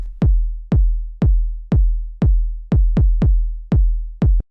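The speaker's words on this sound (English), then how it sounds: "After that we have the kick, which sounds like this." Fat 909-style kick drum for lo-fi house, nine punchy, booming hits in a steady pulse with a couple of quicker doubled hits near the end, loud and dry with nothing else playing.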